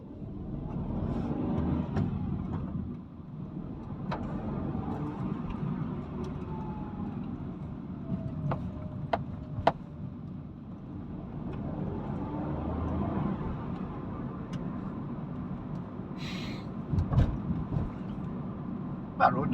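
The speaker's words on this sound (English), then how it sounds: "That road noise off it." Steady low road and tyre rumble inside a moving Hyundai i car on Sumitomo front tyres, with occasional faint ticks and clicks in the cabin.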